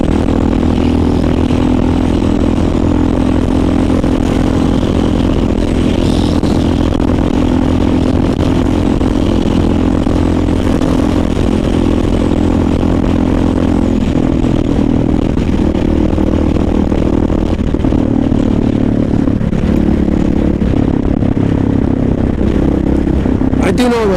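Motorcycle engine droning steadily while riding through New York City traffic, a continuous mid-pitched hum with wind rush and occasional clatter, close and loud throughout.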